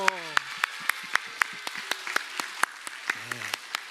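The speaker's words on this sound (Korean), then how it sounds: "박수 한번 쳐주세요" Sparse hand claps from a church congregation during a Korean Sunday worship service, scattered sharp claps in an uneven rhythm under a speaking voice and some vocal tones.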